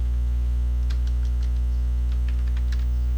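Light, quick taps on a computer keyboard come in a short irregular burst over a loud, steady electrical hum.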